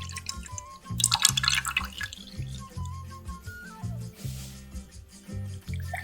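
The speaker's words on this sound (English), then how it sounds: "pour 200 milliliters of instant coconut milk" Instant coconut milk pours and drips steadily into a pot for Thai Bua Loy dessert, a soft wet trickle continuing over gentle background music.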